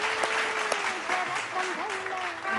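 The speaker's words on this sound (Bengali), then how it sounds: "সঠিক উত্তর দিয়েছে লিলিয়ানটির পরিবার, জোরে হাততালি।" Studio audience on a Bengali family game show breaks into loud, continuous applause, with a voice and music tones sounding over the clapping.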